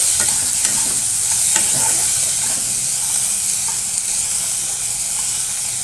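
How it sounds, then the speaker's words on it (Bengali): Crushed garlic fries in hot oil with a steady, loud sizzle and hiss, and a spoon scrapes and stirs the pan now and then, with no voices. "রসুন থেতো করে দিয়েছি রসুন তেলের মধ্যে আমি ভাজা ভাজা করছি"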